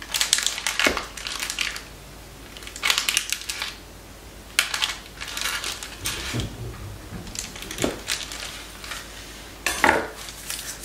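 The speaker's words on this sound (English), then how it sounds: "we're going to mix it up in the food processor along with some almond paste" A small food processor churns flour, sugar, almond paste and butter in bursts. Gritty, crunchy grinding pulses rise and fall with pauses between them, close by and without any talking.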